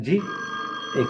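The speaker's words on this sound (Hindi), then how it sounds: "जनाब ये मेरा फोन होगा।" A telephone rings in an indoor scene of an Urdu comedy drama, a steady electronic ring with short bursts of speech at its start and end.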